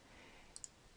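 A TI calculator keypad gives two quick, faint clicks close together as values are entered, set against a quiet room hiss.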